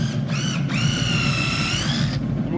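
A power drill whines as it bores pilot holes into wooden boards meant as platform end caps, with two short bursts followed by a longer sustained run close by.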